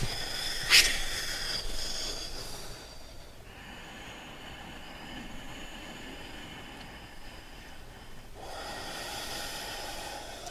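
A slow, audible exhale during yoga practice in plank pose, with a sharp breathy burst near the start and then a long, soft, airy release, no talking.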